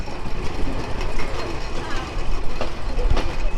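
Sundarban Express, the Dhaka–Khulna train, at Faridpur railway station, giving a continuous rumbling rail noise with faint clicking over about four seconds, fairly loud and close.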